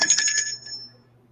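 A phone's bell ringtone chimes in a quick run of bright, close tones that fade within about a second.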